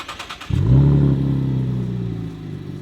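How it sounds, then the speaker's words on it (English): A V8 car engine starts up with a warm start and gives a short, light rev, settling into a deep, rumbling idle close by with no voices. "then he's gonna give it some baby revs"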